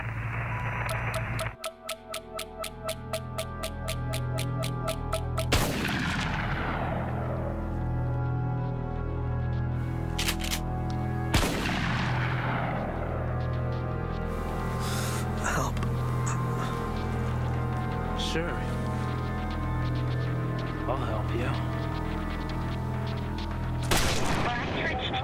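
Gunfire in a dramatized documentary reconstruction of a school shooting: a few loud, sharp shots ring out at intervals over a steady, sustained droning background.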